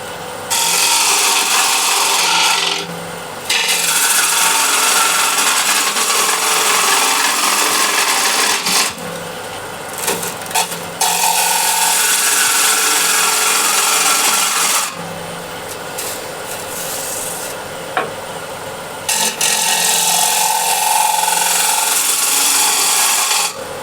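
A 16mm M42 Crown bowl gouge cuts an 11-inch Osage orange bowl on a lathe: a loud, steady rasping shear that runs continuously, broken by a few brief pauses near the start, middle and end.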